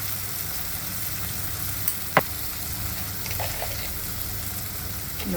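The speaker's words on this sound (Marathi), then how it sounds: "तापल्यानंतर त्यामध्ये मी शेंगदाण्याची पेस्ट बारीक केलेली आहे चांगली त्यामध्ये थोडी हळद घालते" Peanut paste with turmeric fries in hot oil for a Maharashtrian methi bhaji, giving a steady soft sizzle with a couple of brief stirring clinks, close and without talk.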